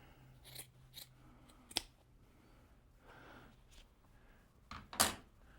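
Scissors snip away padding from a fiberglass volar wrist splint, a few brief crisp cuts and rustles spaced apart, with a louder sharp snip near the end.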